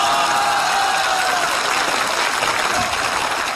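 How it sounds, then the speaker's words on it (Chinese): A theatre audience at a Spring Festival Gala comedy sketch breaks into loud, dense applause, a steady wash of clapping that fills the whole stretch without pause. "此处有雷鸣般的掌声"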